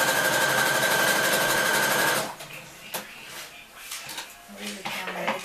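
Sewing machine stitching fabric for a fashion show garment: a fast, steady mechanical whirr close by for about two seconds, then stopping, followed by light clicks and handling noises.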